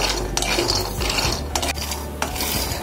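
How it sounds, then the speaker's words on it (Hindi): Peanuts stirred and roasted in a wok over a low gas flame, with repeated scraping and rattling strokes of a spatula against the metal and the nuts shifting between strokes. "लो फ्लेम पर लगातार चलाते हुए दाने को भूनेंगे।"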